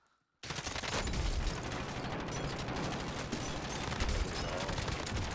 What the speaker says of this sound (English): I'm under fire. I got some shots into them.